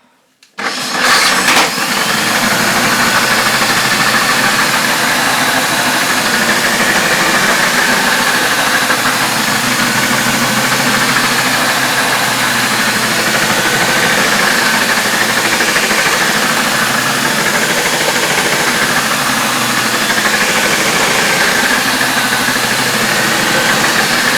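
A Hoover F3871 suction polisher runs continuously at close range. Its motor sounds unhealthy, with a loud, steady, rough whir and a grinding edge from start to finish.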